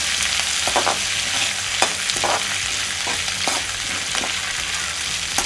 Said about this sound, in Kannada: ಇವಾಗ ನಾನು ಒಂದು ಬೌಲ್ನಷ್ಟು ಫ್ರೆಶ್ ಕರಿಬೇವನ್ನ ಫ್ರೈ ಮಾಡ್ಕೊಳ್ತಾ ಇದ್ದೀನಿ